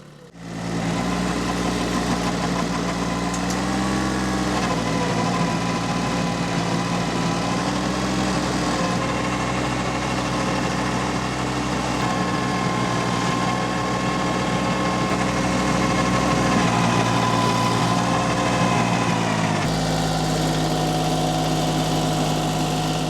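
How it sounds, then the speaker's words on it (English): A garden tiller engine running steadily while breaking up clay soil in a kitchen garden patch, a loud continuous mechanical drone with a low rumble that shifts pitch slightly near the end. "the tiller has made pretty light work of that"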